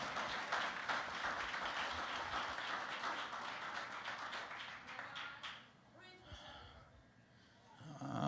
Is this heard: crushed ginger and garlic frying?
no